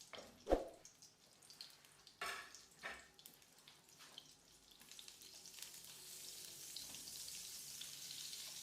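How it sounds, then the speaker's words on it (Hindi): Butter melting in olive oil in a kadai, a soft low sizzle that builds into a steady faint hiss after a few light clinks and knocks, with no talking. "मक्खन के 4 चम्मच डाल दें और उसको मेल्ट होने दें।"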